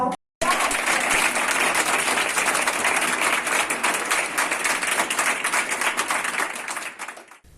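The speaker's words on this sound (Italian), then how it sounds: "Quindi ringraziamo con un applauso." An audience breaks into warm, steady applause that starts abruptly and carries on for several seconds, dense and close, before fading out at the end.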